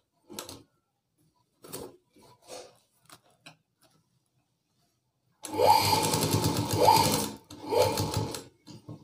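A sewing machine stitches a folded blouse piece in one loud, steady run of about three seconds, with short ticking bursts and handling clicks before it and a brief restart after.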